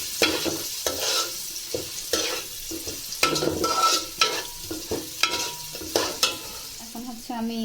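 Ghee hitting a pan of biryani ingredients: a sizzling hiss under brisk, repeated stirring, with spoon scrapes and knocks against the metal pot coming in uneven bursts, close up and without speech.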